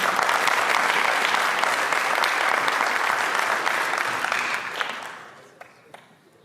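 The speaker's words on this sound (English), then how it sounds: "Have a nice round of applause for Mike Geraci here tonight." An audience applauds at a police change of command ceremony, dense steady clapping from many hands that tapers off into a few scattered claps.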